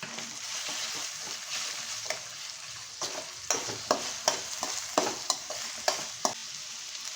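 Ginger, chili and coriander paste hits a hot pan of soybean fried rice base, giving a steady close sizzle with a run of sharp scraping stirs toward the end, no talking.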